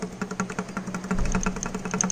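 Engine with a broken connecting rod knocking, a steady rapid rhythmic clatter over a low running drone, close and moderately loud, with no talk.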